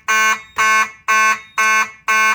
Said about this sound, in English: And there goes the horn strobe again.